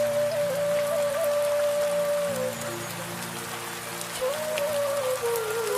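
Steady rain falls in a continuous broadband hiss, fairly loud and unbroken, with a faint whistling tone drifting over it.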